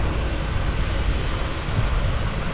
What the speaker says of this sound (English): Oh, another plane starting up.